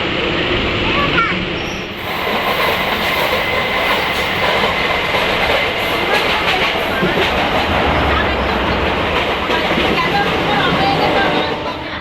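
A passenger train rolls toward Naihati station in West Bengal, a steady loud rumble of wheels and carriage noise that runs throughout, with people talking faintly over it.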